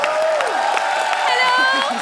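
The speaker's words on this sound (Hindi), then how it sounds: "जोरदार तालियां एक बार।" A studio audience claps and cheers at a comedy show, a brief burst of applause with a voice ringing over it.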